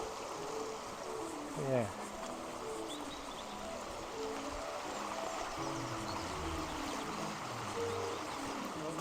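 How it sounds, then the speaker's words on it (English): A river flowing at Wycoller, a steady rushing wash of water heard outdoors with faint bird calls and a brief spoken word over it. "I just want to have a look at the river."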